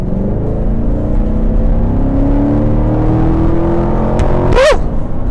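A Corvette Stingray, fitted with aftermarket mods, rumbles loudly and climbs steadily in engine pitch while accelerating, followed by a sharp whooshing pass close by near the end.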